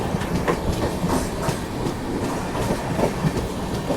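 The Coimbatore–Chennai Central Intercity Express runs along the track with loud, continuous rumbling and rhythmic clickety-clack of wheels over rail joints, heard close from inside the train.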